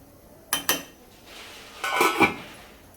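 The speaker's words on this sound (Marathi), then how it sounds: "आता मी झाकण ठेवते आणि पूर्ण ही भाजी शिजवून घेते" Metal lid set onto a cooking pot of Agri-style chavli, brinjal and potato curry, giving two sharp clinks close by, then a longer scraping rattle and a final clank as it settles.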